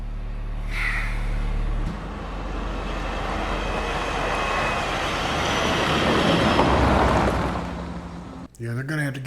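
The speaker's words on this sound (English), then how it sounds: "they're gonna have to get this train stopped" A freight train from the Breaking Bad episode 'Dead Freight' rumbles in a steady, loud roar that swells toward the end and then cuts off abruptly, with voices talking over it.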